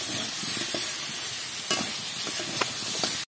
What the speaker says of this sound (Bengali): এবার এটা দিয়ে আমি একটু ভাজা ভাজা করে নেব।